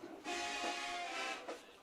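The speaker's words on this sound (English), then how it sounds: "Whistles are blown here." Referee whistles blown at a high school football game between Munford and Memphis Central for an offsides penalty, a shrill sustained blast followed by a shorter one, loud over crowd noise.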